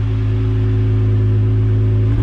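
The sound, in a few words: 2021 Jeep Gladiator engine with Dynomax Quiet Crawler exhaust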